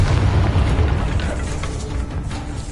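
A Confringo blast spell cast in Hogwarts Legacy lands as a loud, sustained booming explosion with heavy low rumble, holding strong for a couple of seconds before easing slightly.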